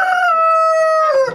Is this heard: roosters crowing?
yes